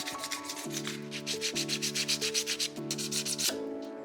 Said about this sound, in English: I'm first going to go over it with the lowest grit of sandpaper that I have, which is 120 grit